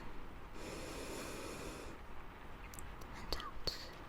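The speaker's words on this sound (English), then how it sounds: "just take a deep breath in for me again" A patient inhales deeply during a doctor's home-visit medical examination: a soft, airy breath in lasting about a second and a half, close and quiet, followed by faint rustles and small clicks.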